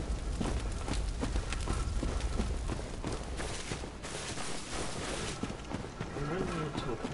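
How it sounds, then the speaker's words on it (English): Footsteps in the video game Bloodborne thud in a steady, rapid clatter like hooves, loud and continuous, with people talking over them throughout. "Those footsteps."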